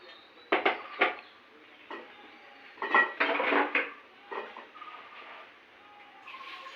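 Flattened rice (chira) tossed in a frying pan with a metal spatula, giving bursts of close clattering and scraping in uneven clusters with quieter gaps between.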